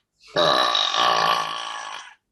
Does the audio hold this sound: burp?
yes